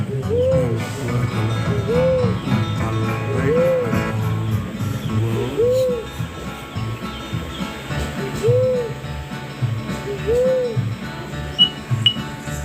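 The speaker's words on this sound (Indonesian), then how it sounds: "Yang nomor satu adalah burung tekukur yang banyak di sekitar kita." A spotted dove (tekukur) gives soft, hooting coos repeated at steady intervals of about two seconds, clear over low background noise.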